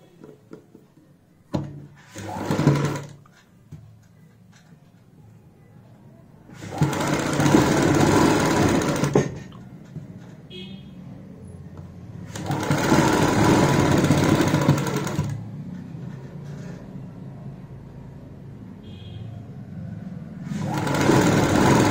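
A sewing machine stitches over an existing seam on a sleeve cuff for a kurti or blouse, running in four loud bursts of a few seconds each, separated by quieter stretches of faint handling noise.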